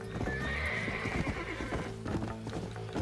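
A horse in the video game Red Dead Redemption neighs once in a long, shrill whinny while its hooves clip-clop steadily on the ground underneath and keep going afterward.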